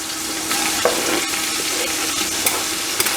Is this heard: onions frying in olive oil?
yes